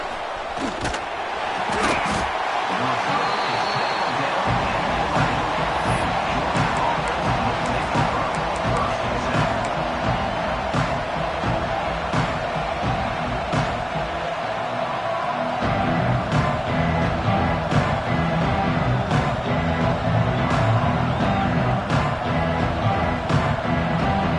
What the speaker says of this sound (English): Crowd coming to life here trying to help the defense get a stop with the offense pinned back.